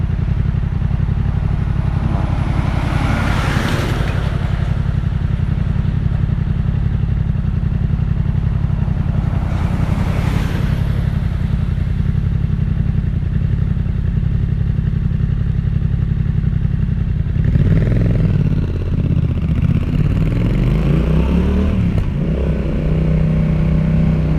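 A Yamaha XSR700 with an SC Project exhaust rides through Hong Kong, the engine note loud and constant from onboard, with wind rush swelling twice and revs rising and falling near the end.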